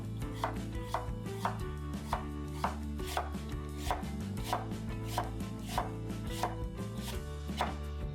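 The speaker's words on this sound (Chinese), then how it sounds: "削去外皮， 然后切成斜刀片，" A knife slices peeled burdock root diagonally on a cutting board, giving crisp, evenly spaced chops about twice a second. The cutting is close and clear, with no talking.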